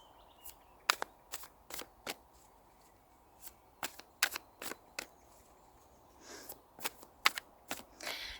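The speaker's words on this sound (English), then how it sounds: "let's pull some tarot cards as well here" Tarot cards are shuffled in a quiet room: a string of soft, sharp riffles and taps at irregular intervals, faint and close, with no talking.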